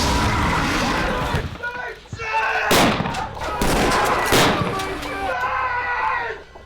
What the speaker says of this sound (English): we're gonna have one of our actors shoot a 12-gauge shotgun a couple times through with some half loads